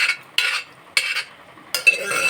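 A ladle stirs brinjal peanut curry in a pot, giving three gentle scraping strokes with brief pauses between, close and quiet with no voices.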